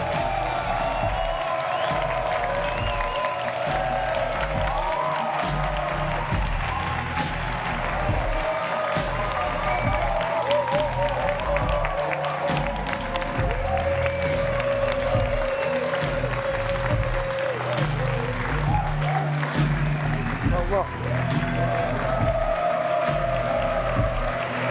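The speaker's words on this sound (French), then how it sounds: "Il va venir sous vos applaudissements, sous vos acclamations." An audience at a French live show applauds and cheers in a sustained, dense wash of clapping and crowd noise that continues throughout, with voices mixed in.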